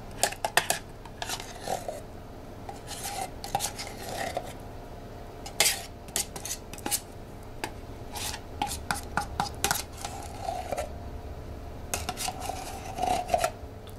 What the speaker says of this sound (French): Et vous lissez donc le mélange chocolat crème de marron.